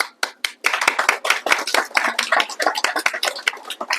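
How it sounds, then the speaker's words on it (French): Steady applause from a crowd, dense overlapping claps filling the whole stretch at moderate loudness with no voices. "Applaudissez, s'il vous plaît."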